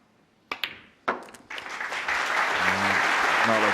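A snooker crowd at the World Championship breaks into applause after a winning pot, starting with a few scattered claps and swelling into sustained, even clapping from a large audience.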